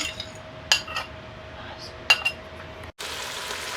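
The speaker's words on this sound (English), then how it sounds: "I'll put that in my pan" Two sharp utensil clinks against a Ninja Foodi pot, then a steady hiss as chopped onions, peppers and minced garlic go into hot olive oil, the sizzle continuing to the end.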